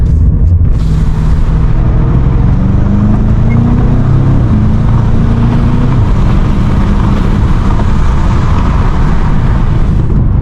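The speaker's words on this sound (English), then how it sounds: "we're merging onto another highway. Downshift a couple times." A BMW M5 Competition V8 downshifts while merging onto a highway at night, its engine tone climbing and shifting steadily under constant loud road and cabin rumble.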